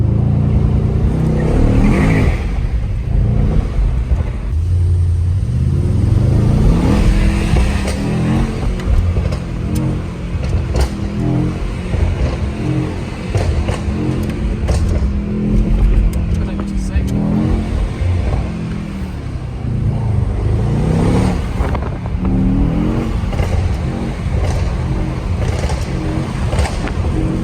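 A Mercedes-AMG GT63S driven late at night roars continuously, its exhaust crackling with pops and burbles as the engine revs and eases off, loud and close from inside the car, with voices talking over it.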